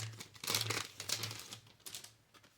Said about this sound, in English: you're going to hear some of the crinkling